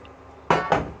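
Cauliflower pieces tumble into a pan of softened beetroot and carrot for a vegetable chop: two quick, close clattering drops against the metal after a near-silent pause.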